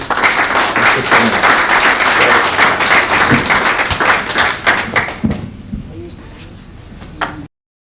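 Audience applause at a book presentation, loud sustained clapping from a crowd that tapers after about five seconds into a few scattered claps and room noise, with voices faintly present.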